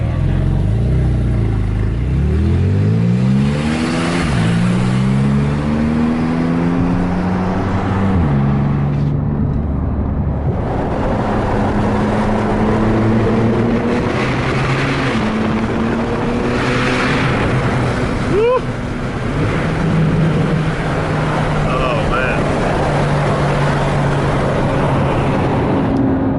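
A Porsche 911 Turbo S engine revs hard inside a tunnel, loud and close, rising in pitch through repeated gear pulls with brief lifts between them and a booming, echoing roar.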